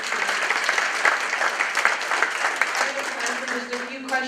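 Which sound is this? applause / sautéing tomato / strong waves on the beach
applause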